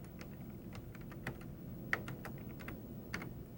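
Typing on a computer keyboard while entering text in MS-DOS Editor: quiet, irregular key clicks at a steady typing pace over a low background hum.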